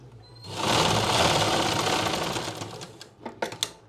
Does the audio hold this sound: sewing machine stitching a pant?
yes